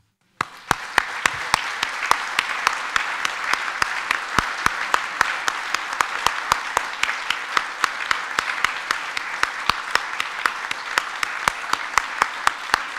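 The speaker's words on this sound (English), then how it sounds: "So I want to ask us to applaud Malcolm." An audience at an award ceremony applauds Malcolm, steady crowd clapping sustained throughout with a regular sharp clap standing out near the microphone.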